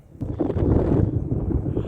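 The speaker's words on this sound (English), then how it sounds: "The wind is really picking up here." Strong wind buffeting a microphone outdoors on a farm field, a continuous low rumbling roar that swells and stays loud for the whole stretch, with no other sound clearly audible.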